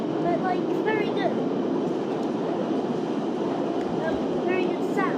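A London Central Line train in the OpenBVE simulator runs along the track, a loud steady rumble of wheels and motors with faint rhythmic clicks and squeals, heard alone without talk.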